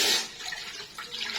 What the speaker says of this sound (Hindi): अब यही पानी इसमें डाल देंगे